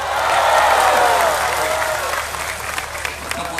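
Crowd applause at a stadium religious gathering, a dense, loud roar of clapping from a large audience that swells early and then thins into scattered claps.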